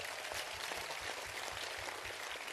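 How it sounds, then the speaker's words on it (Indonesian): Faint, steady applause from an audience at an Islamic study gathering, a dense continuous patter like rain heard from a distance, with no voices over it. "Tepuk tangan untuk Anda."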